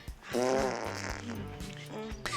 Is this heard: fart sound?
yes